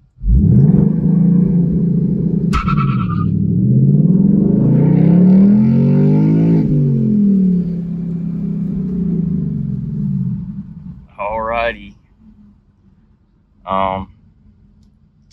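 A 2023 Ford Mustang GT V8 doing a first-gear launch-control start, with a loud close engine roar that builds and holds for about ten seconds, then drops away. A voice briefly exclaims near the end.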